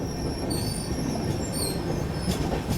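Train rolling steadily on rails through a rock-cut ghat section, heard from inside the coach as a continuous loud rumble with high wheel squeal running throughout.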